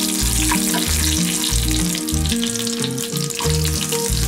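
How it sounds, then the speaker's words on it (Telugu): Mustard seeds, cumin, chana dal and peanuts fry loudly in hot oil, a dense continuous sizzle with a quick repeated stirring rhythm, close and alone. "ఆయిల్ వేడయ్యాక కొన్ని ఆవాలు కొద్దిగా జీలకర్ర కొద్దిగా శనగపప్పు కొన్ని పల్లీలు ఇవి బాగా ఫ్రై అవ్వాలి"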